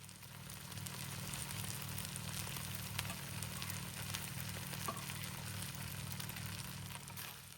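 Boiled rice and vegetables stir-frying on high flame in a wok for Thai fried rice, a faint, steady sizzle with occasional light clicks of stirring, no voices.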